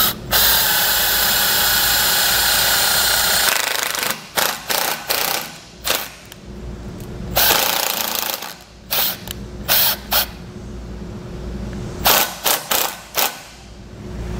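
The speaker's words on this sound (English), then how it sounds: "To ground this, I just have a self-tapping screw. We're gonna go to our frame and just get it secured." A power drill drives a self-tapping screw into a trailer frame. A long, loud whirring run is followed by a series of short bursts and stops as the screw seats.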